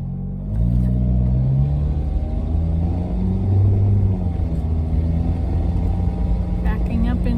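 A school bus backs up into a driveway, its engine giving a low, steady rumble close by while a voice talks over it.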